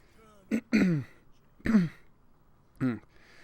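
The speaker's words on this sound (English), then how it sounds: "I don't clear my throat before the video starts." Three separate rough throat clearings, close and fairly loud, with short quiet gaps between them and no speech.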